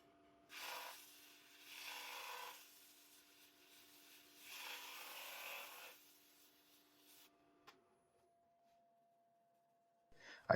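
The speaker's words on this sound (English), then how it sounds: "I go over the surface with a Negative Rake Scraper and sand everything with 120 grit." A wooden natural-edge bowl made from slabwood being worked with a negative rake scraper and sanded with 120 grit on a lathe, three soft rasping passes over a low steady motor hum, quiet and close.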